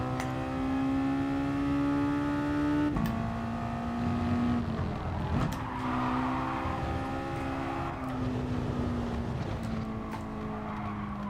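A Mazda touring race car in GT Sport drones steadily through its gears, the engine pitch rising and dropping at each shift, close and loud throughout.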